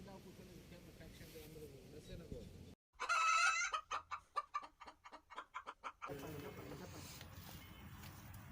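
Chickens clucking close by in a burst of rapid, repeated clucks and squawks, with people talking before and after.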